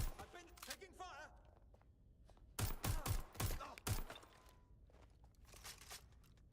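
A burst of gunfire in Watch Dogs Legion, several sharp shots in quick succession rising over a murmuring background, with someone talking before and after the volley.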